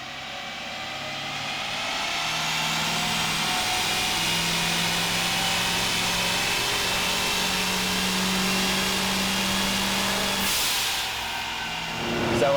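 A nitrous-equipped diesel truck runs on a dyno, a steady loud broadband roar of engine and turbo holding for about ten seconds and then dropping away as the run ends.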